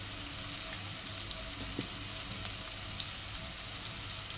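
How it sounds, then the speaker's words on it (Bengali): Cumin and coriander powder frying in a pan, a steady close sizzle with faint stirring scrapes running throughout, no voices. "এখন মশলাটা কষিয়ে নেব।"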